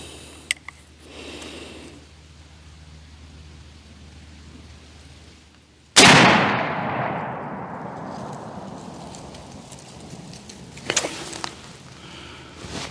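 A single loud, sharp 35 Remington rifle shot fired from a Marlin 336 at ballistic gel 75 yards away, with the report decaying into a long rolling outdoor echo after quiet ambient noise.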